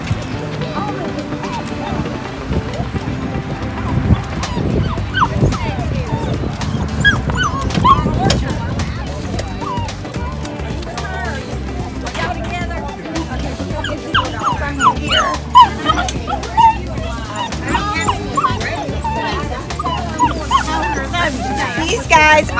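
Eight-week-old English Labrador puppies bark, yip and whimper almost continuously at an outdoor market, close and loud, with people talking over the noise throughout.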